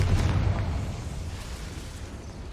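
A Confringo spell explosion in the video game Hogwarts Legacy, heard as a single muffled low boom that rumbles and fades slowly, fairly loud, with no talk.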